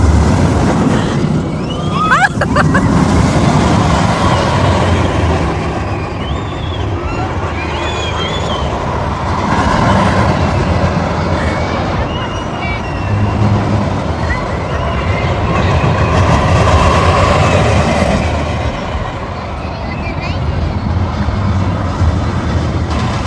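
Amusement park ride at a lion park resort in Gaborone, Botswana, rumbling along its track with a broad, loud rolling roar that swells and fades, with people's voices faintly mixed in.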